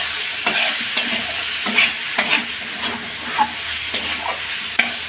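Grated purple cabbage with flour is stir-fried in a pan, a steady sizzle punctuated by regular scraping strokes of a spatula about every half second, close and fairly loud without talk.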